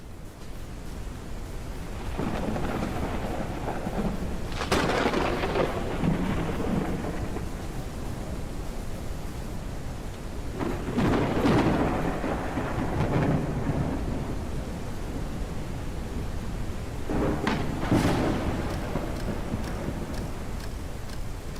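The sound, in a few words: rain and thunderstorm in Forever Skies video game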